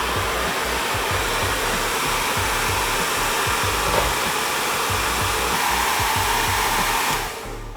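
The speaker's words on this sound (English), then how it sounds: "This blow dryer with like this huge diffuser" A blow dryer fitted with a large diffuser runs on medium heat and high air while drying curly hair, giving a loud, steady broadband whoosh that holds evenly throughout and cuts off near the end.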